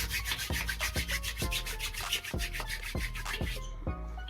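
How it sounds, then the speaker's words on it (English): Hair pomade gets worked between two palms in quick, even rubbing strokes, about two per second, close and dry-sounding, with no talking. "Okay, rub it in your hands."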